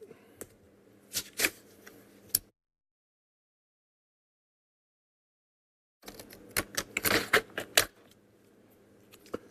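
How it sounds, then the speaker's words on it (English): Very large scissors trim paper close by, a quick cluster of crisp snips, then a few seconds of silence, then another busier burst of cutting and rustling. "They're very big, these scissors."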